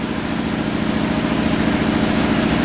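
LG WT7400 washing machine motor spinning down, a steady loud droning hum with low rhythmic throbbing and broad whooshing noise, heard close with no voices.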